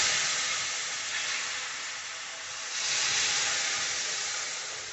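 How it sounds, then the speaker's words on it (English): Boiling water hits a hot pan of roasting spices and bursts into a loud, sustained hiss and sizzle of steam that eases slightly, then surges again. "so we're going to add a bit of boiling water"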